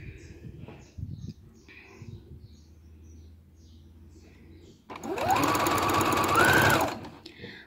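Brother sewing machine stitching a dress, running in a fast, steady whir for a couple of seconds near the end after a quieter stretch with faint talk.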